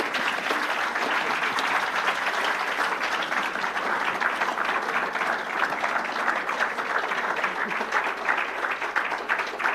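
Sustained applause from an audience at a civil society awards ceremony, dense and steady clapping filling the whole stretch without a break.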